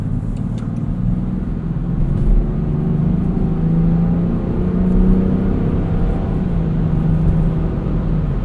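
2024 Land Rover Defender 130 Outbound with an inline six engine driving, heard from inside as a smooth, steady low rumble with gently rising and falling engine tones, continuous and fairly loud, with no talking.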